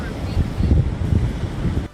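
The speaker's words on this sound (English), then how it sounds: "The waves coming in." Ocean waves roll in with a loud, broad surging wash and wind buffeting the microphone, steady with slight swells.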